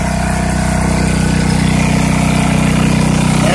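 A 1988 Ranch King L158B riding mower's engine idles high with its throttle cable stuck, a loud, close, steady pulsing drone with no one speaking.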